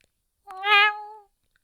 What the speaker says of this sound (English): Izuku heard a meowing.